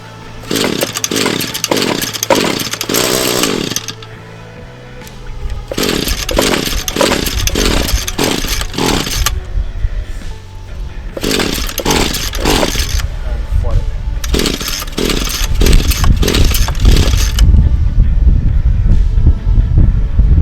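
An ECHO SRM 210 two-stroke string trimmer engine runs with a rough, buzzing roar that comes in several separate bursts, with rhythmic pulsing between them and wind noise on the microphone.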